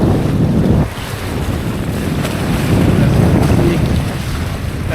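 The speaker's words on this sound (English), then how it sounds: "now we get the waves from the powerboat and a gust" Strong wind roars across the microphone while windfoiling, with choppy powerboat wake waves slapping and rushing beneath, a gust swelling and fading continuously throughout.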